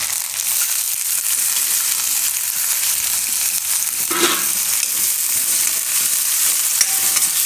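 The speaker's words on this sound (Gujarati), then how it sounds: "તો થોડીક વાર આપણે ડુંગળી આ રીતે ફેરવી લેવાની તેલમાં" Onions and curry leaves frying in oil for a Gujarati bottle gourd dish, a continuous close sizzle with stirring scrapes and one louder clatter midway, no talk.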